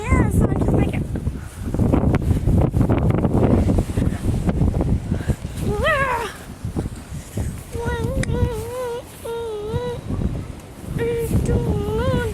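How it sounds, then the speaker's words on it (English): Strong wind during a snowstorm roars steadily into the microphone as broadband buffeting, while people talk loudly over it and a high tonal whine rises and falls in the second half. "You can probably hear in the camera how much wind is coming by."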